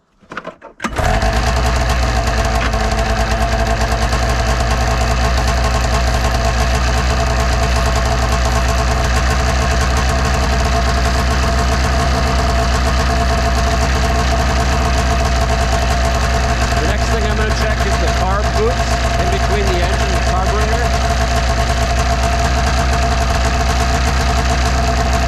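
A 1999 Arctic Cat ZR600 snowmobile engine starts up and idles steadily for a long stretch, a loud, even mechanical drone close by with a faint rhythmic knock.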